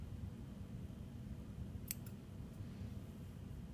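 Scissors cut a notch into a t-shirt neckband with two quick, crisp snips close together, faint against a steady background hiss.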